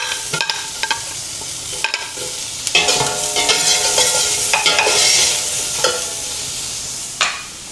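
Garlic and onion sautéing in a pan, loud close sizzling with scraping stirs and clinks of a utensil in irregular bursts, no voices.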